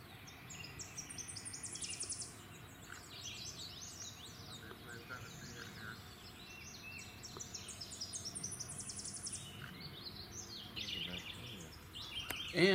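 Magnolia warbler singing short, high bright phrases repeated several times over a soft background of insects and other distant birds, fairly faint and outdoors.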